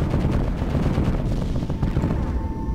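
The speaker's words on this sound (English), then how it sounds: "Whoa, that was a big explosion." Explosions and rapid gunfire in the video game Gimbal, a dense, loud run of overlapping booms and bursts that rumbles on for nearly three seconds without speech.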